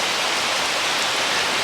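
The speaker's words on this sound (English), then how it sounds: "I'm standing in the rain" Steady rain pours down outdoors in a dense, even hiss with no breaks, loud and close throughout, with no voices heard.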